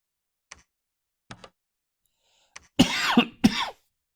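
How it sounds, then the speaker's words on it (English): A person coughs, a few faint clicks first, then two short, harsh coughs close to the microphone in an otherwise quiet room. "Still have a bit of a cough."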